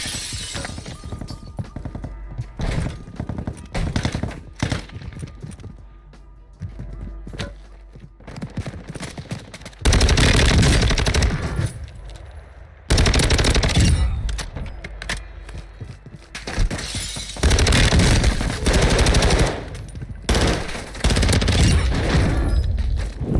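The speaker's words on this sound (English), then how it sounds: "When I hear them shooting outside, I'm able to pick them off" Gunfire in the video game Warzone crackles in dense bursts and sharp volleys, loud and close, with busier clusters of shots in the later half.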